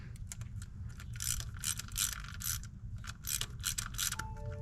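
Someone works a hand ratchet to tighten down a new oil pressure sensor on a Maserati Ghibli, steady rapid pawl clicking in repeated close bursts over a constant low engine-bay hum, with no talking.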